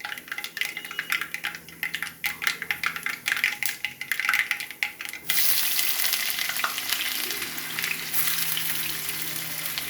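Onions hit hot oil in a pan for a Telangana-style goat head curry, first with clattering stirring and scraping, then settling into a steady loud sizzle.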